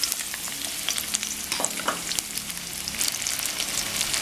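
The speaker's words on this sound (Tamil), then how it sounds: "எண்ணெய் சூடாயிடுச்சு. நம்ம அந்த கட் பண்ணி வச்சுருக்க வெங்காயம் சேர்த்துக்கலாம்." Cut onions frying in hot oil give a close, dense crackling sizzle, with stirring scrapes and pops scattered through it and no talk.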